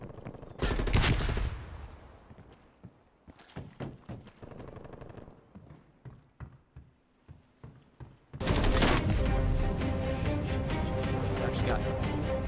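Video game gunfire: a loud burst of rapid shots, a scatter of sharp single cracks, then a long sustained barrage, with a person talking over parts of it.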